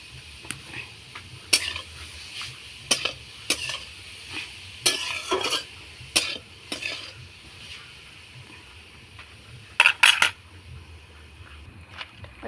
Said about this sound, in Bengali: কড়াইটা গরম হয়ে গেছে, এবার নারকেলগুলো কড়াইতে দিয়ে দেবো।